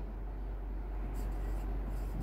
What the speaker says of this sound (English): And we'll write that one here.